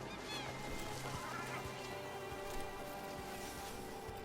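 Birds honking by a beach in the video game Dragon Age: The Veilguard, repeated goose-like honks over a steady rain-like hiss of ambience, moderately quiet and with no talk.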